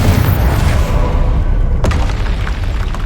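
A Confringo fire spell detonates in the Hogwarts Legacy video game, a loud rumbling boom that fills the whole clip with a sharp burst cracking through near the end.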